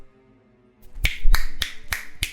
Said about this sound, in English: I'm just gonna snap my fingers so hard.